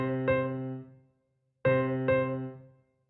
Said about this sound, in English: I will play the metronome with my right hand, and together with left hand it will sound like this.